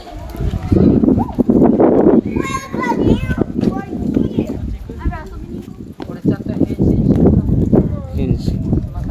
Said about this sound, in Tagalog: Mga kabayo, pony.